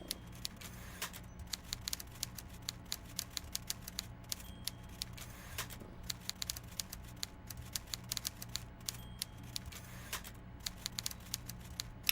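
Typewriter-style clacking from the Disco Elysium video game, an irregular stream of sharp key strikes over a steady low hum, continuing for several seconds with no talking.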